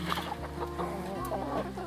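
Backyard chickens about five and a half months old, with two roosters among them, clucking steadily and close by, a dense overlapping chatter of fowl sounds running through the whole short stretch.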